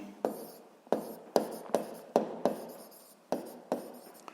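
Handwriting by pen on paper in a quiet room: a series of about ten distinct scratchy strokes, each with a sharp onset and fading tail, close up and alone.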